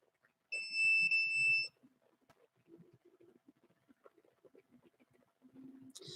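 A bathroom detector alarm gives one loud, shrill electronic beep of about a second, followed by faint rustling and quiet room noise.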